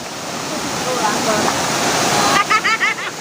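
A waterfall roars in a steady, loud broadband rush that fills the whole clip, with a voice cutting in over it near the end.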